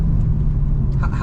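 A deep, steady 2012 Mercedes-Benz C63 AMG (W204) engine rumble dominates throughout, loud and close, with a brief rise in higher tones near the end.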